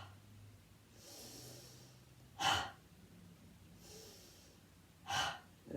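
Slow deep breathing during a gentle seated yoga session, two soft drawn-out inhales each followed by a sharper audible exhale, quiet and close with no talk.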